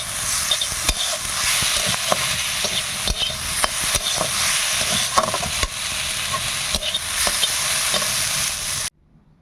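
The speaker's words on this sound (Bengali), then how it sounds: "পটলটা ভেজে নিয়েছি, শাক ভাজছি।" Leafy greens (shak) fry in a pan with a continuous close hiss and sizzle, punctuated by repeated sharp scraping and stirring clicks, then a sudden stop at the end.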